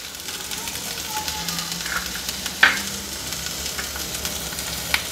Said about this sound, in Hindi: प्याज को हम सॉटे कर लेंगे